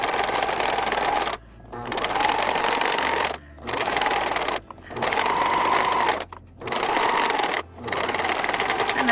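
A serger stitching a rolled hem on a garment's fabric edge, heard as close, steady bursts of rapid mechanical whirring in four runs separated by brief pauses.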